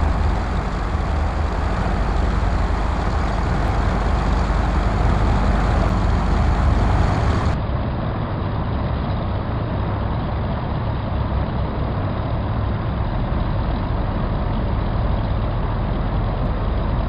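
Avro Tudor piston airliner engines in a flight simulator game throttled back to idle on landing, a steady low droning rumble that continues throughout, with the upper hiss cutting off partway through.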